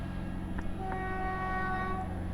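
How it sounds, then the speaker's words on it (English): A Lumo class 803 train passes on the East Coast Main Line at Langford, a steady rumbling rush with sustained tonal hums and a brief horn-like chime, moderately loud and close, with no one talking. "the next train to pass by is a Lumo 803 from London King's Cross to Edinburgh Waverley."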